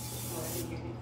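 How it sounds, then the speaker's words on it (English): Cooking spray hissing from an aerosol can onto a cast iron grill plate, a single close, continuous spray lasting under a second before cutting off. "we're going to go ahead and get our cooking spray and spray that down real good"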